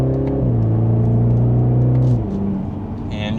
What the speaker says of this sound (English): And still in Sport Plus second gear, here we go. And just a mild acceleration, we're up to speed.